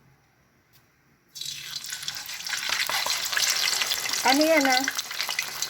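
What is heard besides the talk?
tilapia frying in oil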